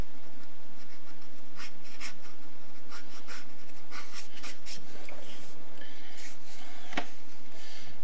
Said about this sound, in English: Can't talk and sketch at the same time.